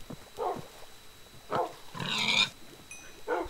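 Pig oinking in the video game Minecraft, several short grunts spaced a second or so apart, with one longer squeal in the middle, fairly quiet and heard without talk.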